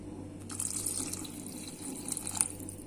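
Water pours into a cooking pot for rice, a steady splashing stream running close and moderately loud for a few seconds.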